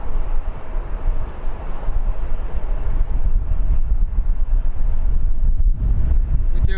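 Breezy wind at an airport buffets the microphone in a constant low rumble and rush, steady and loud throughout with no clear talk.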